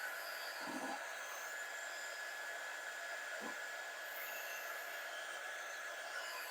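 A dryer blows in a constant, even airy roar that stays steady throughout, with a couple of faint low bumps.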